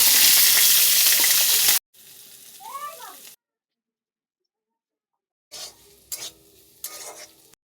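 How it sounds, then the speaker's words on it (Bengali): Vegetables such as carrots frying and being stirred in a hot pan for chaumin, with a loud steady sizzle, then a gap, then quieter scraping stirs and a few sharp knocks. "এইভাবে আমি বাকি সবজিগুলোকেও ভালো করে ভেজে নেব।"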